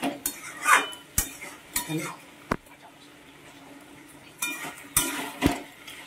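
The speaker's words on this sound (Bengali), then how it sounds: "তারপরে নেড়ে চেড়ে মিশিয়ে নিলাম" A spoon stirs and mixes vegetable curry in a pan, giving sharp scraping clinks at irregular intervals over a faint sizzle, with brief quiet gaps between strokes and a voice at times.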